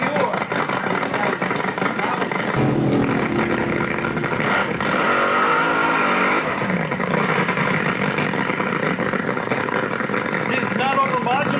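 A nitro-fuelled drag racing car making its run, a loud, sustained engine roar heard amid a crowd and people talking over it, rising in intensity partway through.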